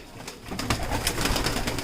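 Several older pigeons coo in a loft, giving soft, low, repeated throaty calls at close range, with no talk over them.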